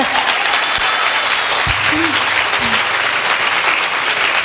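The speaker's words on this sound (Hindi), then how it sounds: "ताली बजाओ तो अच्छा बजाओ बहनों" A church congregation applauding during a Women's Day sermon, a loud, dense and sustained burst of many hands clapping at once, filling the room, with brief voices underneath.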